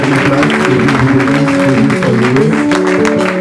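A church congregation applauding during a Sunday service, dense sustained clapping mixed with voices and a musical tone underneath.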